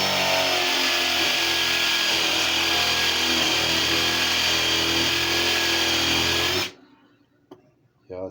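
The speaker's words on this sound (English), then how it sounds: "I'm using a 1/2-inch paddle bit." A power drill fitted with a 1/2-inch paddle bit bores into wet wood for a porch swing planter, a loud steady whine holding for several seconds before cutting off abruptly, followed by faint quiet handling.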